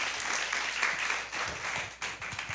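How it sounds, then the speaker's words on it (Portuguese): Congregation applauding during a church service, a broadband wash of clapping at moderate level that thins out after a brief dip, with a few low thumps near the end. "Vamos dar aplauso para esses irmãos aqui"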